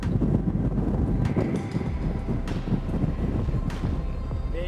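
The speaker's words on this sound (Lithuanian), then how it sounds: "Vėjukas pučia." Wind gusts at Ambuluwawa tower near Kandy, Sri Lanka, buffeting hard in a continuous broadband roar with uneven surges, loud and close, with no speech.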